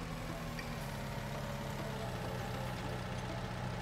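Tractor engine idling in Farming Simulator 19, a steady low mechanical rumble with a constant hum, holding the same level throughout with no voices.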